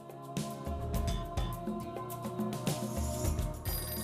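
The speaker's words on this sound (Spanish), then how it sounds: "Mientras Stauffenberg está dentro, suena el teléfono." A telephone rings in an old German military headquarters setting, with musical tonal bursts layered over a rich, busy backdrop, moderately loud and continuous.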